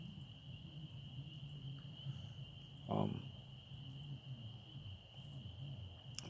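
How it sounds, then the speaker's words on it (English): Crickets give a high, continuous chirring trill out in the countryside, faint and steady, while someone talks quietly over it and a short rustle cuts in briefly. "You hear the crickets, man."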